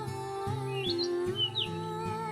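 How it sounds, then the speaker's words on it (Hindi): High, rising chirps from a small bird, a few short calls over a steady background hum with low rhythmic tones. "वो चिड़िया का बच्चा भोलू कबूतर को आवाज लगाता है।"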